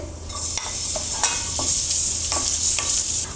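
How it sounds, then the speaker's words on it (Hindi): Raisins frying in a kadhai, added to the same pan just after browning cashews and almonds; a steady close sizzle with soft stirring scrapes and light pops throughout, no voices. "सेम कढ़ाई में किशमिश भी डालकर भुनेंगे"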